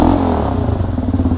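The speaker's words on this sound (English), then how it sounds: "listen to the exhaust note on this thing" A 1974 Honda CL360 motorcycle idles and revs close by, its exhaust note a loud, throbbing pulse with a rapid, slightly uneven beat.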